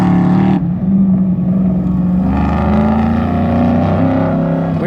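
A yellow 1969 Classic Muscle race car at an NMCA drag race roars loudly and close, its engine note holding steady and climbing in pitch as it runs down the track.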